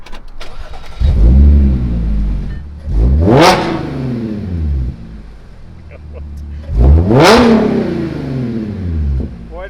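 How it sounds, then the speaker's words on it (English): A Dodge Hellcat's powerful engine turns over and fires, then revs hard twice with rising, roaring sweeps that settle back to a deep rumbling idle, very close and loud. "Let me start the car and I'll show you."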